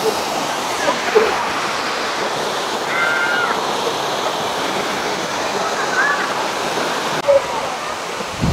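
Dampalit Falls in Los Baños, Laguna pours down in a steady, dense rush of water, with wind buffeting the microphone now and then and brief voices faintly in the background.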